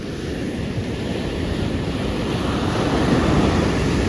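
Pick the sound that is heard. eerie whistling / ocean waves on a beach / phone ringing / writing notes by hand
ocean waves on a beach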